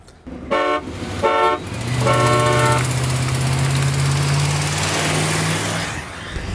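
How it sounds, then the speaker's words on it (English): Three car horn honks from a van or wagon: two short toots, then a long sustained blare lasting several seconds over a running engine. "I'm gonna honk 3 times."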